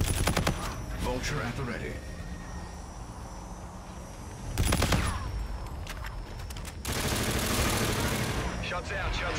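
Call of Duty: Infinite Warfare multiplayer match with bursts of rapid gunfire, including a loud mid-clip volley and sustained shooting near the end, while a voice speaks briefly.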